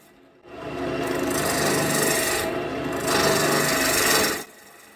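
A gouge scrapes steadily against spinning maple on a lathe in two sustained, airy, wispy rasping passes, close and continuous, with a brief gap between them.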